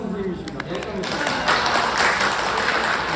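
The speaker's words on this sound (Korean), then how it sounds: "박수 한번 주세요." Audience applause from a crowd at an indoor book talk builds into steady, dense clapping that swells after the opening, with a speaker's voice heard over it at first.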